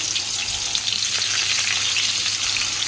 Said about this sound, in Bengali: এখন পেঁয়াজ ফোড়ন দিয়ে দিলাম।